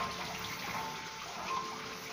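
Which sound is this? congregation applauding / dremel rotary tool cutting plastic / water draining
water draining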